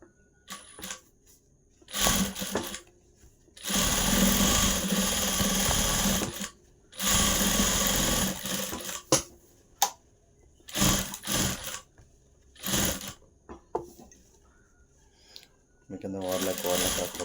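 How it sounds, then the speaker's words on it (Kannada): A sewing machine stitches fabric in several bursts of rapid mechanical whirring, some lasting a couple of seconds, with brief clicks and handling noises in the gaps; a person speaks between runs. "ಆಮೇಲೆ ಫ್ರಂಟಲ್ಲಿ ನೋಡಿ ಈ ಥರ ಸ್ಟಿಚ್ ಮಾಡ್ಕೊಳ್ಬೇಕು ಈ ಸೈಡಿಂದ"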